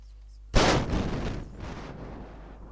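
A sudden heavy boom bursts out in Minecraft, then rumbles and fades over about two seconds, like a synthesized game explosion.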